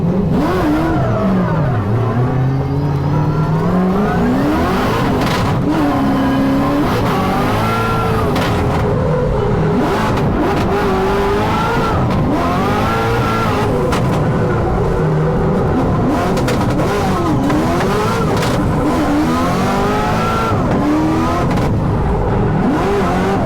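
A Corvette C6 drift car in a pro competition revs hard and keeps changing pitch, its loud engine note climbing and dropping through the whole run with no break.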